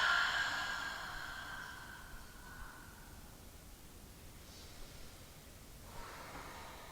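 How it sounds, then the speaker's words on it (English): Long, soft exhalation during a mindful yoga practice, loudest at the start and fading into quiet room hiss, followed by a faint breath near the end. "Practice that again. Inhaling and exhale just to let it go."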